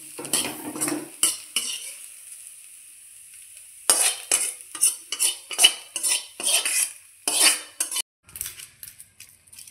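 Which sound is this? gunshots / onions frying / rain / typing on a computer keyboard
onions frying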